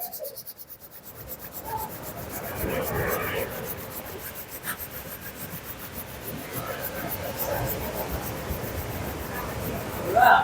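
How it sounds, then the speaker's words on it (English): Hands rub together during a beach vinyasa flow class, a soft continuous dry friction hiss that swells and fades over about ten seconds, with faint surf-like background noise. "Rub our hands together."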